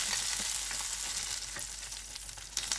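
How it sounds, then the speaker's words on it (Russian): Store-bought frozen dumplings sizzle and crackle steadily in a hot frying pan, a bright hiss with small pops and a few soft stirring clinks. "Продолжаем их жарить, периодически присматривая за ними."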